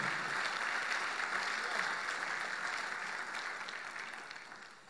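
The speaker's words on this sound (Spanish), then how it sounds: "Démosle un fuerte aplauso al Señor" A church congregation gives the Lord a loud round of applause, with steady crowd clapping that holds for several seconds and then slowly fades.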